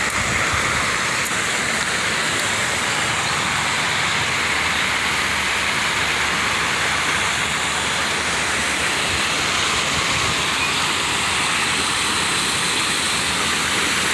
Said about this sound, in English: of course it is kind of loud from the moving water